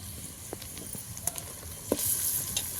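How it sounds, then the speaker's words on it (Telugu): Chicken frying with onions in a home cooking pan, a steady soft sizzle with a few light clinks and scrapes of stirring, close and moderately quiet, no voices. "ఆనియన్స్ అంతా కొద్దిగా ఫ్రై అయిన తర్వాత ఇందులోకి చికెన్ అయితే యాడ్ చేసుకోవాలి"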